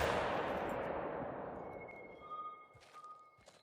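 Hunting rifle shot in theHunter: Call of the Wild, one sharp loud report with a long rolling echo fading away over a few seconds, alone without talk.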